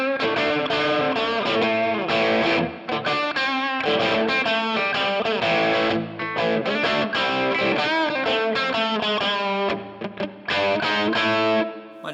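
An electric guitar plays through a vintage Orange-style amp rig set for a medium crunch tone, giving loud, continuous distorted chords and sustained riffs with short gaps.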